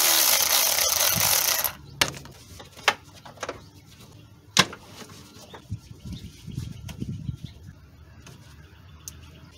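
A tool works 10 mm nuts on the battery and intake of a Toyota Tundra 4.7 V8, beginning with a loud burst of power-tool whir and followed by scattered clicks and metallic knocks close by.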